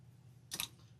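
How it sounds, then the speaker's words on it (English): A single quick snip of scissors trimming excess pipe cleaner on a flower wreath, one brief crisp click against near silence. "I'm just trimming the excess off."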